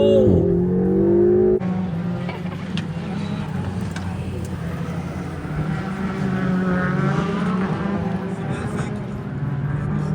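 A Ferrari sports car at speed on a race track drones loudly and steadily from inside the cabin, engine tone rising after an early gear shift, with someone talking over the engine throughout.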